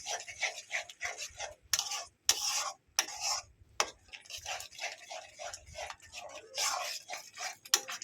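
A spoon stirs yogurt gravy for doi katla in a pan over a very low flame, making quiet, rhythmic scraping and tapping strokes that come in quick irregular bursts with short pauses.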